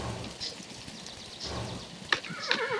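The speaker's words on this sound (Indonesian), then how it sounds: "Ya, ini kuda." A horse in the side-scrolling game Kingdom gives two short, sharp whinny-like calls near the end, over quiet ambient game sound and faint soft thuds.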